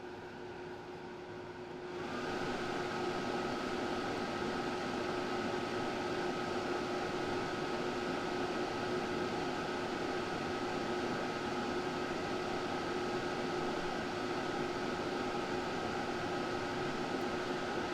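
A Honeywell HPA100 HEPA air purifier switched up to its max setting gives a loud, steady broadband whoosh of airflow with a constant tonal hum, rising after a quieter opening couple of seconds and then holding evenly.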